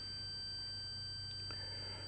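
A multimeter's continuity tester beeps across an automotive fuse as one unbroken, faint, high-pitched tone. It sounds alone over a low background hum, with a couple of small clicks near the end.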